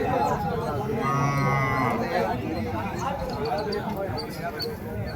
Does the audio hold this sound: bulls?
yes